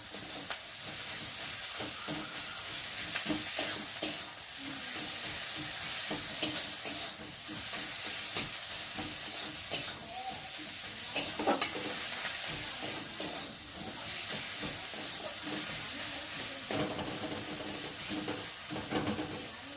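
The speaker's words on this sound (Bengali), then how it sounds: "যতক্ষণ না মশলার একটা কাঁচা গন্ধ যাবে, ততক্ষণ আমি মশলাটাকে ভালো করে ভেজে নেব।" Spice paste fries in a pan for a light chicken curry, giving a continuous soft sizzle punctuated by repeated scraping and stirring strokes of a spoon, fairly quiet and steady throughout.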